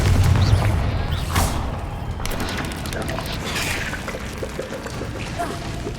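In the Hogwarts Legacy video game, a Confringo spell blast goes off with a heavy booming burst followed by crackling, rumbling debris and fiery after-effects, a second sharp impact landing midway; some voice is present.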